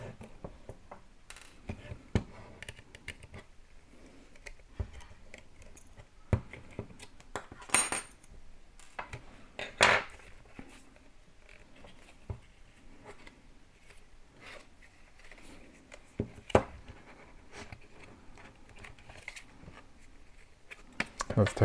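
Small screws being removed from a metal bracket on a portable USB DVD drive, with scattered light clicks, scrapes and metallic ticks from a small screwdriver, sparse and close.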